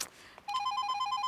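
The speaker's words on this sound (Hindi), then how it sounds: "मैडम आपका फोन।" A telephone ringing in a short comedy sketch, a rapid electronic trill that starts abruptly and carries on steadily for under a second, fairly loud and close, after a brief moment of quiet.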